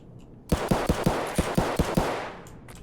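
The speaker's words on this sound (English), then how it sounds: "That's a lot of gunfire." Video-game gunfire: about eight sharp, loud shots fire in quick succession, then a brief fading tail and near silence.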